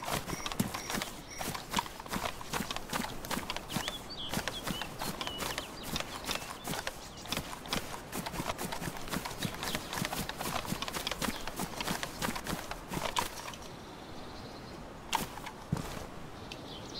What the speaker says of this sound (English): This guy really stomps around